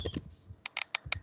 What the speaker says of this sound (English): why I'm typing.